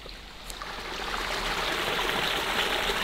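Water flowing along a stream on an off-grid homestead makes a steady, close rushing and trickling wash that swells slightly after the first second and continues without pause.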